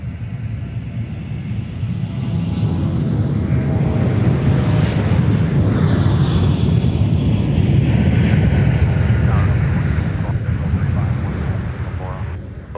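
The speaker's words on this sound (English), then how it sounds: "Those are big engines on a narrow body airplane." A narrow-body airliner with big engines at Minneapolis–St. Paul airport, its jet roar swelling up, holding loud and broad for several seconds, then slowly fading as it passes; a faint radio voice may sit underneath.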